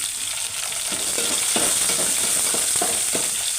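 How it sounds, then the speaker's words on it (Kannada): Crushed garlic sizzles loudly in hot oil in a pan, a steady close hiss with several soft stirring knocks partway through. There is no talking. "ಜಜ್ಜಿಟ್ಟಿದ್ದಂಥ ಬೆಳ್ಳುಳ್ಳಿ ಹಾಕ್ಕೊಂಡು ಸ್ವಲ್ಪ ಬಣ್ಣ ತಿರುಗಿ ತನಕ ಬಾಡಿಸ್ಕೊಳ್ಬೇಕು"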